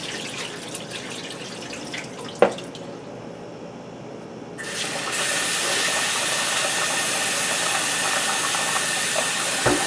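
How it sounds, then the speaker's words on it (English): Rice is washed in water, swished around by fingers, with soft watery sloshing at first and a sharp knock, then a louder, steady rushing stream of water takes over for the second half. "Kind of swish it around with your fingers there until the water pretty much runs clear."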